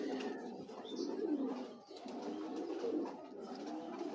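Racing pigeons coo faintly in a loft, soft low murmuring calls overlapping over a hissy background, continuous and distant.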